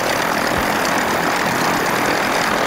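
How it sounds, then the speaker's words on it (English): The front engine of the Rutan Voyager aircraft, an air-cooled Teledyne, runs as a loud, steady propeller drone that stays even throughout the clip, heard alone with no talk. "start the front engine"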